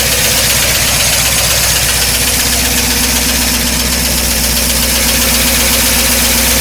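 A 1953 Oldsmobile Rocket Super 88 barn-find engine idles loudly and steadily up close, its even mechanical chug holding throughout as it warms up, with no voices.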